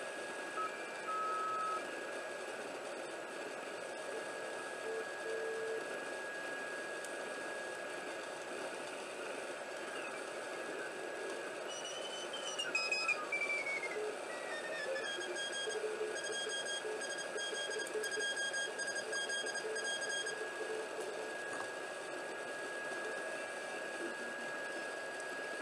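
A barebones superhet receiver tuned to the lower CW portion of the 17 meter band gives a steady hiss with thin morse-like beeping tones that drift in pitch partway through, faint and continuous with no talk.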